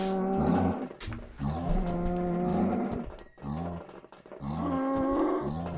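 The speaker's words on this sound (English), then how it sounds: "Those are perfectly natural cow sounds." Cows in the VoxeLibre block-building game, low drawn-out moos repeating in overlapping calls, loud and close, with a few small clicks between them.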